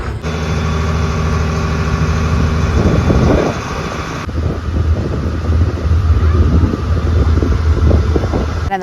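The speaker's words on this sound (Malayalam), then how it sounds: "അപ്പത്തേ തിരിച്ചു പോകാനുള്ള ബോട്ട് വന്നു കേട്ടോ." A ferry boat engine drones steadily near at hand under heavy wind buffeting on the microphone, with a low throbbing rumble continuing throughout.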